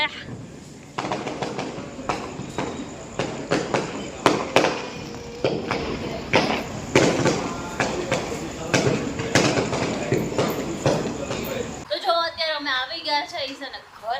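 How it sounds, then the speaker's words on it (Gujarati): Firecrackers celebrating India's World Cup win burst in rapid, irregular succession, sharp cracks and pops following one another for several seconds before stopping abruptly. "જો ફટાકડા ફૂટવા માંડ્યા આપણે ઇન્ડિયા જીતું ની ખુશીમાં."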